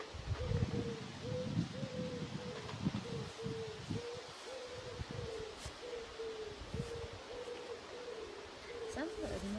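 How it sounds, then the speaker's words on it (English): Pigeons coo up in a church tower, a repeated low hooting call recurring in a steady rhythm, faint and distant under rustling and murmured voices. "Ah, it's nice, probably pigeons up there."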